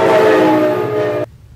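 A train at a depot in the old mining town of Dawson, New Mexico sounds a loud, sustained horn blast that holds steady for over a second, then cuts off abruptly, leaving a faint rumble.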